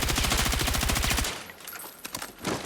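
Rapid automatic gunfire in the video game Battlefield, fired at a fire extinguisher, runs as a fast, loud, even burst for about a second before stopping, followed by a few scattered impacts and clatters.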